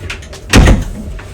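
A cupboard door in a cruise ship cabin swings shut with a single close, solid thud, short and loud with no talking.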